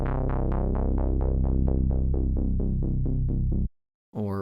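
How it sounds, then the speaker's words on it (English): Retro 80s synthwave bass patch built in Serum, a steady run of rapid pulsing notes with a bright, buzzy edge that stops abruptly, followed by a brief bit of speech. "how to make a synthwave or retro 80s sounding bass in Serum"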